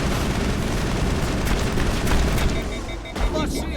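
Dense, loud gunfire from Mass Effect, with rapid bursts of shots and booming impacts, continuous across the whole stretch with a brief dip near the end.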